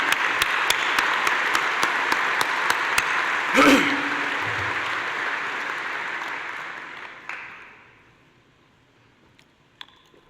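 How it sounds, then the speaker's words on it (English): Audience at a military commissioning ceremony applauding the military science professors, a dense, steady wash of clapping that carries on several seconds before fading out, with a brief stray sound near the end. "let's give them an applause and appreciation for their wonderful service to our nation"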